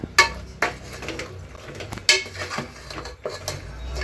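Ground masala being mixed into fried chicken in a metal pot, heard as a series of sharp spoon-on-pot clanks and scrapes in an irregular rhythm, close up with low background rumble and no talking.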